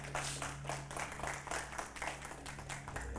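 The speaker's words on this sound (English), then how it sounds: "let's give God a hand clap of praise." Church congregation clapping hands in praise, a steady stream of many claps at moderate distance with a low hum running underneath, fairly faint overall and without speech.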